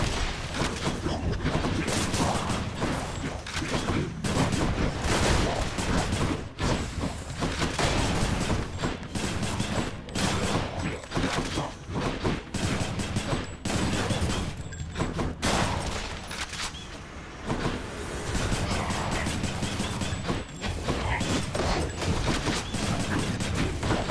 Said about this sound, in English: Is that just a gun? Yes, it is.